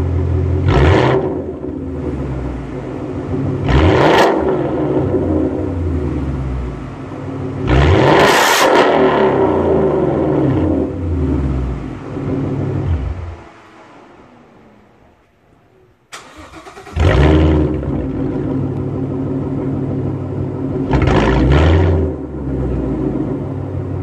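2015 Ford Mustang S550 with aftermarket Roush or Bassani exhaust, loud close engine with several sharp revs over a rumbling idle, a brief drop to near quiet, then a restart and more revving.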